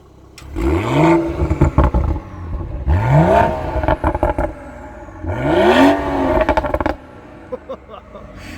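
A 2018 BMW X3 M40i in sport mode revs its engine three times in loud, close bursts, each rising then falling, with clattering exhaust crackles between the revs.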